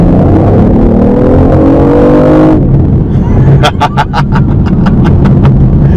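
BMW i8 plug-in hybrid sports car accelerating hard, with a loud rising engine note climbing through the gears and a crisp shift, then rapid rhythmic ticking under steady cabin road noise.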